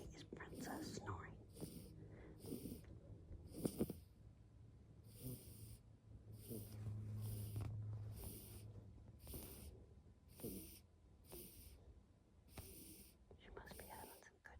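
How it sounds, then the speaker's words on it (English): A sleeping dog snoring softly in a quiet room, with a steady series of faint, rhythmic breathy snores repeating every second or so. "all I'm hearing is Princess snoring."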